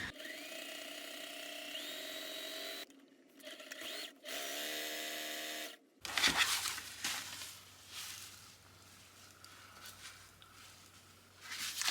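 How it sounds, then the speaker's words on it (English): Sewing machine stitching down the outer marked lines of a ruffled fabric bag strap, a steady mechanical whir in bursts that stop and restart, close and fairly loud, with no talking. "we're going to sew down the outermost lines"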